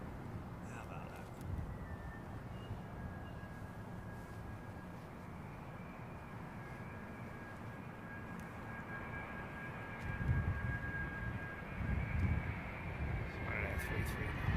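A passenger airliner lands on runway 09L at London Heathrow, its engine roar a steady distant rumble that swells near the end, with faint talk underneath.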